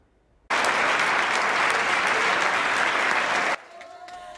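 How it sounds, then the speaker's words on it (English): Loud, steady cheering and applause from a crowd as coronavirus patients leave a hospital, erupting suddenly, sustained for about three seconds, then cutting to quieter background. "a lot of cheering for patients as they leave the hospital"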